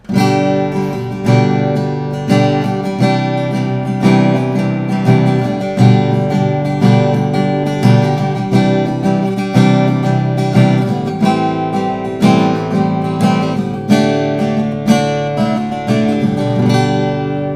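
Steady, full strumming on an Aiersi SG25M OM-body acoustic guitar in a regular rhythm, bright and close, with chords ringing continuously throughout.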